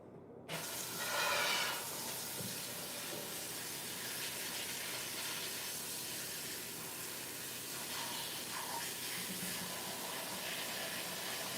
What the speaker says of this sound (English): so I can fill the bag back up. So let's just get some water in it.